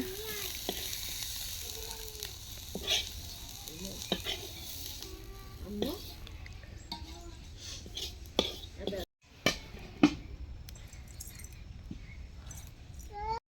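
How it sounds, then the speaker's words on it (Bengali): Local and foreign coriander fry in a kadai with a faint, steady sizzle and occasional scraping stirs, while people talk nearby and a dog can be heard in the background. "তো ওই কড়াইতে দিয়ে দিবে দেশি ধনিয়া এবং বিলাতি ধনিয়া যে বলে সেটা।"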